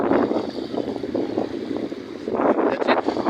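Wind at a beach resort blows across the microphone in uneven, rumbling gusts, moderately loud and close, with no talk over it.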